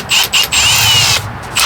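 Hand-held drill with a 5/64 bit deburring the end of a cut brake line: short high-pitched grinding whirrs in quick bursts, then a longer steady scraping run, loud and close with no talk.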